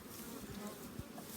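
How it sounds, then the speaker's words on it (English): Honeybees from a backyard hive hum in a continuous, dense drone at close range while the hive is opened for inspection, with no voices. "we have a lot of little baby bees."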